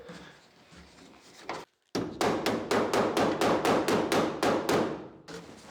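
Hammer blows shape a sheet metal flange on a 1951 Ford, about a dozen sharp, loud, evenly spaced strikes ringing close by after a brief pause.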